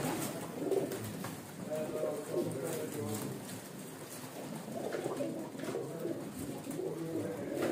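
Pigeons cooing in a loft among a collection of large pigeons, soft repeated coos low in the background under someone talking throughout.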